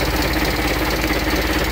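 A Case 830 tractor engine idles loudly and close by with a steady low knocking rumble and constant vibration, and no voices over it.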